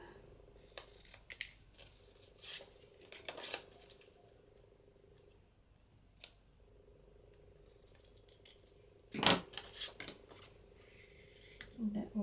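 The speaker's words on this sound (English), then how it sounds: "cut these corners off" Scissors snip off the corners of printed paper for journal embellishments, a few sharp close cuts spaced across the quiet, with a louder cluster of snips near the end and soft handling noises between.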